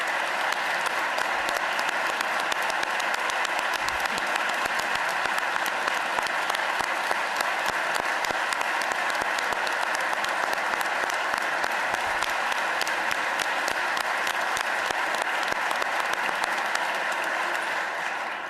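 Applause fills a legislative chamber during a Pennsylvania governor's budget address, a long, even wash of many hands clapping with crisp individual claps audible throughout, lasting the whole stretch before easing at the end.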